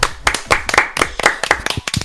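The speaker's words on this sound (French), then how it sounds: "Il s'auto-applaudit." One person clapping alone, about a dozen sharp claps in a quick, slightly uneven rhythm.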